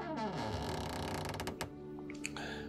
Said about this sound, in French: il ouvre la porte